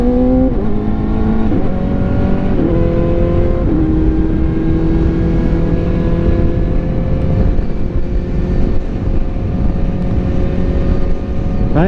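Kawasaki ZX4RR sport motorcycle engine revving loudly and steadily throughout, with pitch climbing and dropping through several rising sweeps, close up and continuous with no talking.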